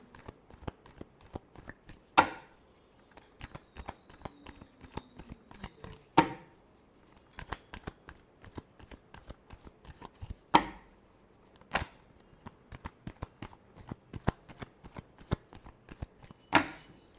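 Tarot cards are shuffled again and again, giving a series of crisp riffling and tapping bursts with sharper snaps every few seconds, close and quiet, with no voice.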